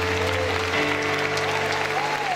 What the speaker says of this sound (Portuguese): Se você pode, aplauda o nome do Senhor Jesus.